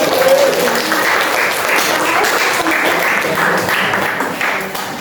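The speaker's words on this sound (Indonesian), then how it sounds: "tepuk tangan untuk semua teman yang lain" Students in a high school classroom clap together in a brief, close burst of applause that fades slightly toward the end, with some voices mixed in.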